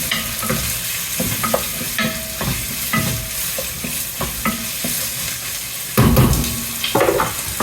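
Italian-style bacon sizzles in a pan while being stirred for Roman tripe, with a steady fry hiss punctuated by repeated scraping and clinking of a utensil against the pan, close and fairly loud, no talking.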